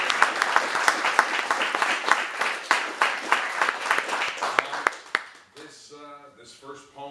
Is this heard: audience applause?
yes